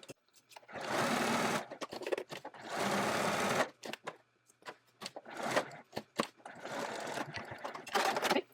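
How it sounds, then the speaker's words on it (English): A sewing machine whirs in short bursts, stitching appliqué fabric around a bat shape for a Halloween bag, stopping and restarting several times with quiet gaps between runs. "Let's go to our sewing machine."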